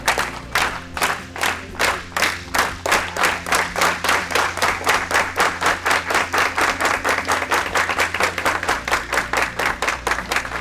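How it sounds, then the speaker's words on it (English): A group claps in unison with a steady beat that gradually speeds up into a rapid rhythm, loud and close, with faint crowd noise underneath. "we'll give him a union clap too."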